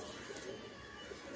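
A male breeder pigeon of the Andhra breed gives a faint, soft, low cooing close by, a brief murmuring call with no talk over it.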